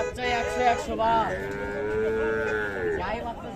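Young Friesian cattle low loudly at a busy village market, a single long drawn-out moo rising over a murmuring crowd of people talking.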